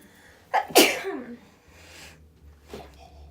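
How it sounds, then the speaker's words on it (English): A sharp, loud sneeze bursts out after a quick inhale, followed by a softer breath and a short second exhale. "Wait, I have to sneeze."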